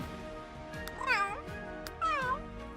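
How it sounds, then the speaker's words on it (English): Two drawn-out cat meows from The Sims 3, each rising and then falling, spaced about a second apart, close and clear over a faint background. "Might lower the meow a little bit."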